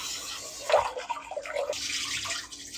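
Rice being rinsed under a running kitchen tap, with steady splashing water and a louder swish of grains partway through, close and alone without speech.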